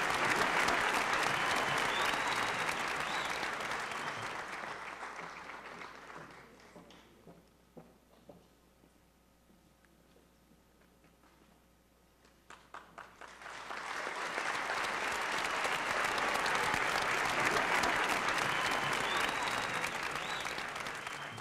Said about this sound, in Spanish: Un aplauso, por favor, para